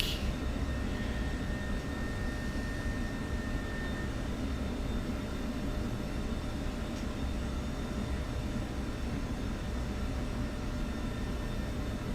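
An F-16C jet on the runway in a flight simulator after touchdown while braking, a steady low engine roar with a faint whine running throughout, even and continuous.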